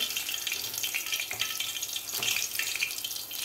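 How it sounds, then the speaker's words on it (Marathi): Green chilies frying in hot oil, cooked as a side for crisp dal vadas, give a steady close sizzle with a bright crackling hiss that rises and falls slightly for a few seconds, with no talking. "व्यवस्थित तळून घ्यायची आहे मिरची"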